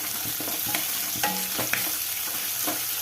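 Onions, curry leaves and peanuts sizzle in a hot pan while a spoon stirs and scrapes through them, a steady close frying hiss broken by soft clinks, with no talking.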